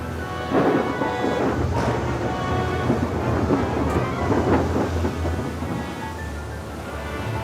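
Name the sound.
rain and thunderstorm sound effect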